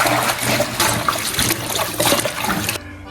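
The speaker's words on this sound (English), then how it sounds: "Now I'm going to give a really good wash for a couple of times." Water runs from a kitchen tap while cime di rapa greens are washed, a loud, close, continuous gushing splash that cuts off abruptly near the end.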